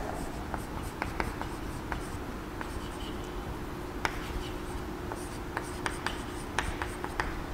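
A pen or pencil writes an angle symbol by hand in scattered short scratches and taps over a steady low background hum. The strokes are close but faint.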